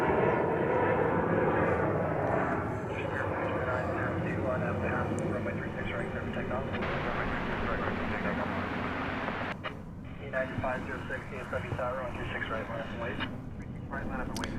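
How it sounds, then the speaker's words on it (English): A Spirit Airlines jet departing DFW Airport for Phoenix roars as a broad rumble that swells and then fades, heard from a spotting position, while someone talks over it for most of the clip. "So here's that Spirit plane headed off to Phoenix"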